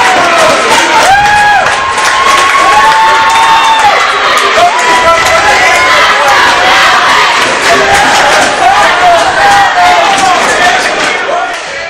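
At the 2016 ECAC Northeast Championship hockey game, Seahawk fans keep up loud, continuous cheering and shouting with whistle-like cries rising above the crowd roar, while a commentator talks over it.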